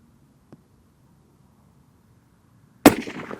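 One sharp, loud shot from a Weatherby Mark V rifle in 7mm rings out after a stretch of quiet outdoor stillness, followed by a decaying echo across open ground.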